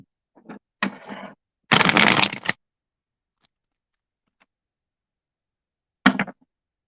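A deck of cards is shuffled up close in short, crisp bursts: a couple of brief riffles, a longer flutter of cards, then silence and one final quick snap of cards.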